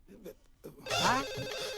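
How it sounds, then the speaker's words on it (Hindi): A telephone bell rings loudly and insistently after a moment of quieter voices, its bright metallic trill filling the room. "टेलीफोन की घंटी बज रही है सर।"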